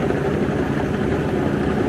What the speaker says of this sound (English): No, it's a 1/3 horsepower DC motor. It seems to be working just fine.